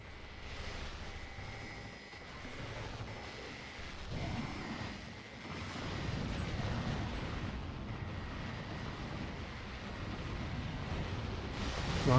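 Explosions in the factory-building video game Factorio make a broad, rumbling wash of blasts that rises and falls over about twelve seconds and swells louder toward the end, with no speech over it.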